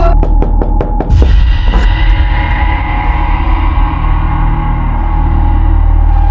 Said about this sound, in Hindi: आलिया, दरवाजा खोलो।